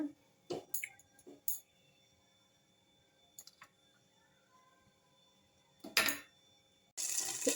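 A spoonful of poppy-seed mixture drops into hot oil. A few faint, scattered clicks and squishes are followed by a sudden loud sizzle that carries through to the end.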